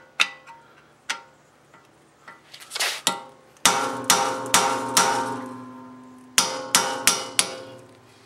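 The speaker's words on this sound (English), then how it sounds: "as you're tapping the screwdriver, try turning it as well at the same time, and it'll break them loose" A hammer taps a screwdriver to loosen stuck rear brake screws on an Acura RSX, a series of sharp close metallic strikes, scattered at first then in quicker clusters.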